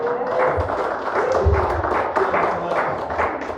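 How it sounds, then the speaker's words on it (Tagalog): Church congregation applauding at a Sunday worship service, a steady patter of clapping that runs the full length without pause, with some soft voices mixed under it. "kinabahan po ako sa palakpak niyo"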